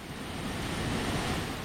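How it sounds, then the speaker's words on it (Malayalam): Shoolam waterfall in Piramadom, Kerala, running low on water into a pool, giving a steady broadband rush of falling water, close and continuous without a break, with no voices. "അപ്പോൾ ഇതാണ് നമ്മുടെ ശൂലം വെള്ളച്ചാട്ടം."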